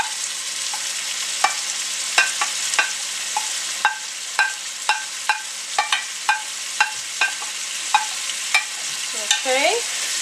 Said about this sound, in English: onions, garlic, carrots, and you will stir and let these go for about 5 to 7 minutes.